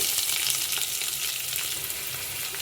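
Onions sizzle steadily in a hot pan with lentils while cooking uggani, a dense continuous frying hiss at moderate loudness with no talk.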